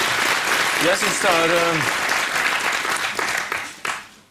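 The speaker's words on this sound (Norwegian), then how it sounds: "det var deg de klappet for" A studio audience on a Norwegian talk show claps in a dense, sustained wash that slowly thins and fades out, with someone speaking over it.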